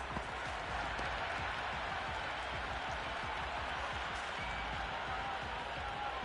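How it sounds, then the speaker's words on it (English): Stadium crowd at a T20 World Cup cricket match between England and New Zealand in the video game Cricket 26 roars and claps in a continuous, dense wash of cheering that stays loud throughout. "The crowd are really getting quite raucous."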